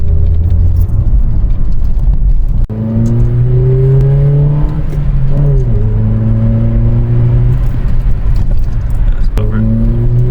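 A VW Polo Mk5 1.4 MPI/FSI fitted with a performance air filter revs hard several times, its pitch climbing and falling back in loud, close sweeps with short pauses between.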